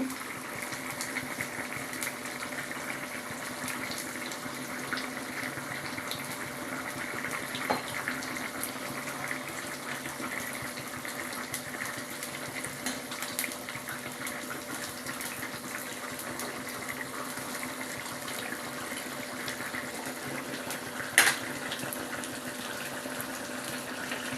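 Egg and eggplant curry simmering in a pan, a steady soft bubbling and hiss running throughout at close range, with one brief clink near the end.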